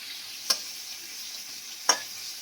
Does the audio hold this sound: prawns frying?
yes